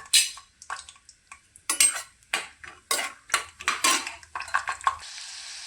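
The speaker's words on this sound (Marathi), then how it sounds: "कढईमध्ये 3 ते 4 पळी तेल ओतलेलं आहे।" Peanuts frying in three to four ladles of oil in a kadhai, heard as a run of close metallic clinks and scrapes of a spoon against the pan with faint sizzling underneath.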